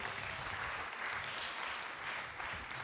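Audience applause at a tech summit for the Ministry of Foreign Affairs, a steady, distant-sounding wash of clapping from a large crowd throughout.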